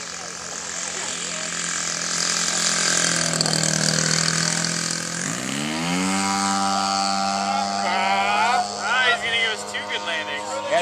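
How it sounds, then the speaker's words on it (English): A radio-controlled model airplane's small engine buzzes overhead at an open house flying field, a continuous whine that rises and falls in pitch as it passes, with people talking nearby. "That's Jesus' plane."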